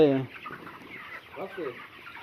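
Broiler chickens pant in the heat and cluck and murmur softly close by, with restless breathy bird sounds and a brief voice at the start.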